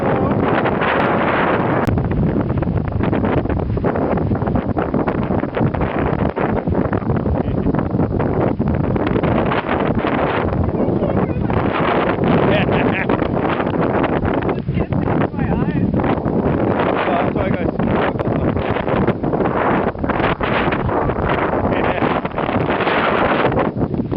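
Strong gusting wind roars steadily across the microphone beside Highway 20 on a cold, snowy day, a loud buffeting rush that never lets up, while people talk over it.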